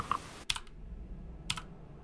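A few isolated computer keyboard key clicks: one light tap, a short cluster of clicks a moment later, then another cluster after a pause, fairly close and crisp against a quiet hum.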